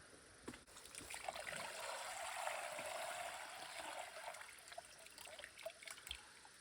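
Water pouring into a bucket outdoors, being filled to carry back to water an off-grid garden during a drought; a steady, fairly faint trickling and splashing runs through the whole stretch without talk.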